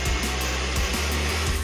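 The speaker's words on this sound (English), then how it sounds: "Vacuum the floor." A vacuum cleaner runs on the floor, a loud, steady close whine and roar holding level throughout without pause.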